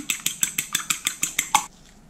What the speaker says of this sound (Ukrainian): До яйця додаю дрібку солі, перемішаю його